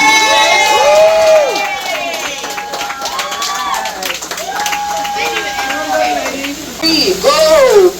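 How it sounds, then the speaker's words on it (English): A tour group at the Appleton Estate rum distillery in Jamaica claps and cheers. Loud shouting and excited voices ride on top of scattered clapping throughout, and the voices swell again toward the end. "Give them a round of applause."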